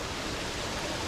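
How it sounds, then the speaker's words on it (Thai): Waterfall behind a home pond, picked up on a GoPro Hero 9 as a continuous broadband rush of falling water, close and even, with no talk over it. "แล้วก็ข้างหลังของเรานะครับก็คือน้ำตกนะฮะ"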